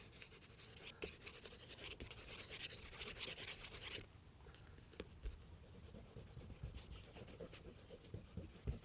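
An eraser rubbing over a graphite pencil drawing on paper, a close, quiet, continuous scrubbing with rapid back-and-forth strokes that eases briefly midway before resuming, no voices.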